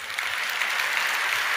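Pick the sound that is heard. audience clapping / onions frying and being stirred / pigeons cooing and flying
audience clapping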